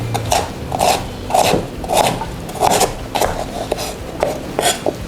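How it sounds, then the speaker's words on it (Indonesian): Galangal being ground into a spice paste for Acehnese kuah beulangong, heard as steady rhythmic rasping strokes about twice a second, close and fairly loud, with no talking. "Bumbu lainnya kita akan haluskan lengkuas."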